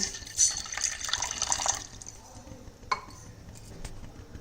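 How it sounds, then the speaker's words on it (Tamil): A tumbler of water pours steadily into a saucepan for a couple of seconds, then stops, leaving quiet kitchen clinks and room noise. "ஒரு சாஸ் பேன் வச்சுக்கலாம் ஸோ அதில் ஒரு டம்ளர் தண்ணி ஊற்றிக்கலாம்"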